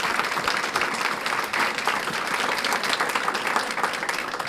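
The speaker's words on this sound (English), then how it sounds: "How about a round of applause for both of those great sponsors?" A luncheon crowd applauding for event sponsors at a county schools gathering, dense and even clapping that carries steadily from start to finish without talk.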